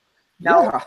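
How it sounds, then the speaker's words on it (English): A dog gives a single short bark-like yelp, close and loud, immediately under overlapping casual talk. "My dog over here."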